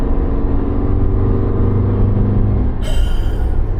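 A Suzuki Jimny fitted with a Forge Motorsport air intake drones loudly under load while driving, a steady low engine rumble with a sharper whine joining near the end.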